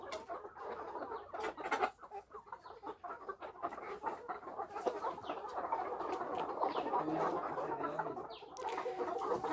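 Ninety-day-old layer chickens, beaks trimmed, kept in a rearing shed, cluck and chirp softly in overlapping bursts, a busy flock murmur that stays fairly quiet and close throughout, with no voices.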